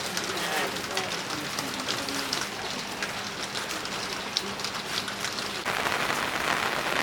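Steady rain falls during a flood, a dense continuous patter on surfaces that grows slightly heavier near the end, with people talking over it.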